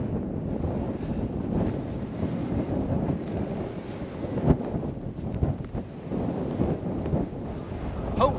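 Strong, gusty wind on the hilltop of Bleaklow Edge, gusting up to 14.4 mph, buffets the microphone in a continuous loud rumble, swelling and easing without a break.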